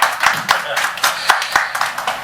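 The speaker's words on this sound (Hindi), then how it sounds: "गिल साहब के लिए एक बार तालियां बजाइए, दिल से तालियां बजाइए" Scattered hand claps from a small group at an honoring ceremony, uneven and moderately loud, with a handful of sharp individual claps standing out.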